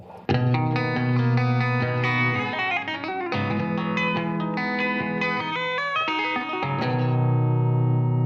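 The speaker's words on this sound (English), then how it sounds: "That little whoop, it's just a simple hammer on and then a slide off." Distorted electric guitar with heavy effects plays a quick hammered note that slides off, ringing with chorus and reverb, loud and sustained throughout.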